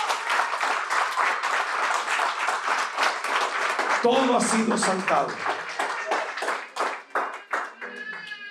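A church congregation applauds loudly in rhythmic, forceful clapping that carries on throughout, while a preacher speaks over it and cheering voices rise in the middle.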